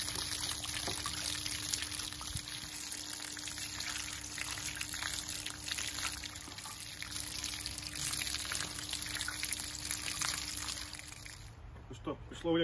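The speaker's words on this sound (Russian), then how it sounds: "Промоем проточной водой." Running tap water pours steadily over a cleaned grass carp whose gills have been removed, a continuous close splashing wash that breaks off near the end.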